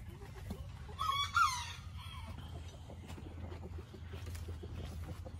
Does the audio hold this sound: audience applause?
no